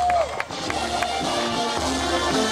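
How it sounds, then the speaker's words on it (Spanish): Crowd applause and scattered cheering at an outdoor Peruvian flag-raising ceremony in a Brooklyn park, a steady wash of clapping with a voice talking over it. "Pedimos un aplauso a todas las personas."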